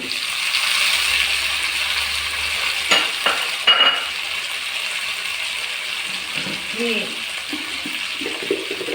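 Tomatoes, shallots and garlic sauté in a hot pan for murungai keerai sambar. A steady sizzle runs throughout, with a few spoon scrapes and stirring clinks, and a voice talks softly over it.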